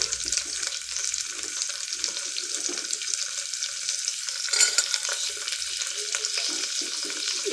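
Carrots, beans, chillies, peas and tomato sautéing with salt for millet khichdi, a soft continuous hiss of frying with occasional light stirring, fairly quiet and without speech.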